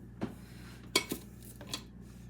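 A lid set onto a cooking pot of gumbo heating toward a boil on a kitchen stove, heard as a few soft metallic clanks and taps over a low background hum, with no talking.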